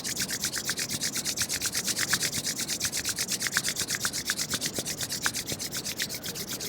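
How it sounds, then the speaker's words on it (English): Palms press and rub briskly together to build heat in a yoga breathing exercise, making a steady, rhythmic swishing friction sound that stays close and even throughout, with no talking. "rub your hands together. Create some heat between your hands"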